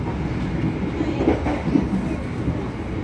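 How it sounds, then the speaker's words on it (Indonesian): Sancaka premium passenger train between Surabaya and Madiun running fast on rails, heard from inside the carriage as a loud steady rumble and wheel roar with faint rhythmic clatter. "Keretanya masih ngebut."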